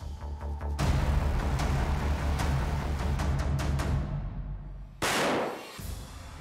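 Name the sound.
Blaser R8 carbine firing .375 rifle shot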